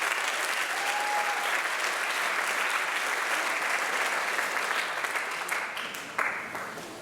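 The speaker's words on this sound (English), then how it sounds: "Please join me in giving these girls a round of applause." Audience applause at a school athletic awards night, honoring the girls track qualifiers; dense, steady clapping from a crowd that holds throughout, then thins slightly near the end.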